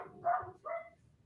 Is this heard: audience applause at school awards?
no